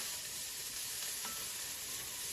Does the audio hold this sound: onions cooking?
yes